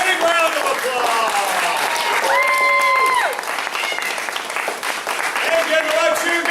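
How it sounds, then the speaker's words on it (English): A crowd keeps clapping steadily at a martial arts belt ceremony in a family martial arts center, with voices shouting and cheering over the continuous applause. "Big round of applause!"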